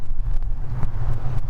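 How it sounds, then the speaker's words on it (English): Strong wind buffets the microphone outdoors beside a 2023 Suzuki GSX-S1000GT motorcycle, a steady low rumbling roar with gusty swells throughout. "It's ever so windy."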